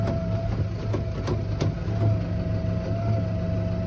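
A tractor's slow one-way hydraulic cylinder tips a mower deck down, giving a steady close idle hum with a thin whine on top and faint ticking, with no one talking.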